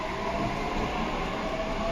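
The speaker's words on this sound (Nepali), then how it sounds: "यो पुरै ट्रेन चाहिँ आइकन अब गइसक्यो" A train rumbles past in a steady, loud roar, with continuous rolling noise from the wheels and cars.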